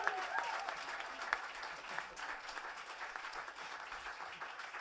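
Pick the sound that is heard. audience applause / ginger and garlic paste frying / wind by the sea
audience applause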